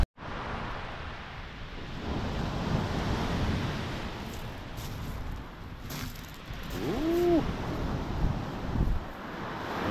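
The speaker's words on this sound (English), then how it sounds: "You have to excuse the sea, it's a bit noisy." Sea waves break on Branscombe beach in a continuous, fairly loud surf roar mixed with wind buffeting the microphone, swelling toward the end.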